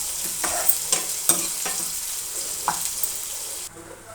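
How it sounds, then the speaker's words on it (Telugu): Onions sauté in a pan for dal tadka with a close, continuous sizzle. A spoon scrapes and stirs through it in several clear strokes, and the sound drops off sharply at the end. "ఉల్లిపాయలు వేసి బాగా మిక్స్ చేయాలి. ఒక 2 minutes సాటేట్ అవ్వాలన్నమాట."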